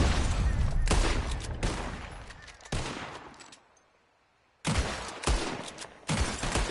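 Gunfight in a video game: a volley of loud, sharp gunshots rings out in bursts, followed by a brief lull before several more heavy shots crack close by.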